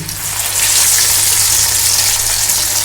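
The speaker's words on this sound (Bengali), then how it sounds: "আমি এখানে একসঙ্গে 3টে ধোকা কিন্তু ভাজতে দিয়ে দিলাম।" Three dhoka, Bengali lentil cakes, fry in hot oil with a loud, dense, steady sizzle and hiss throughout.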